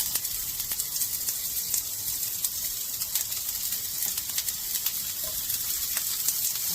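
Onions and shrimp sizzle in oil in a very hot pan for Cambodian-style banh xeo, a steady close hiss with scattered crackling pops throughout and no talking.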